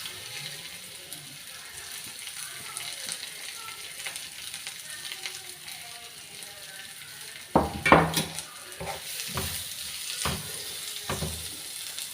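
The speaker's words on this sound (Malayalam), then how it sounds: "തേങ്ങ അരമുറിൻ്റെ പകുതി വലിയ തേങ്ങ ആയതുകൊണ്ട് കേട്ടോ പിന്നെ ചെറിയുള്ളി വെളുത്തുള്ളി കറിവേപ്പിൻ്റെ ഇല ഇത്രയും സാധനം നമുക്ക് ഒന്ന് വറുത്തെടുക്കുക" Grated coconut, fennel, shallots, garlic and curry leaves roast in coconut oil for a mushroom curry, giving a soft, low sizzle that runs quietly before a few louder clinks and scrapes of a spoon against the pan.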